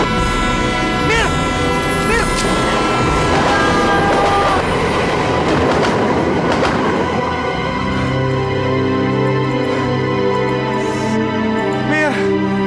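A train approaches, its horn sounding in sustained tonal blasts over rumbling wheels and clatter, loud and close throughout, with voices faintly present beneath the noise.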